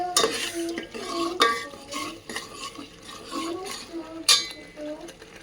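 A spoon stirs mutton paya masala frying in oil in a pot, with scraping clinks and sizzling, close and loud, while a voice talks briefly.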